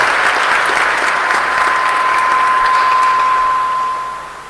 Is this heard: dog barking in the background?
no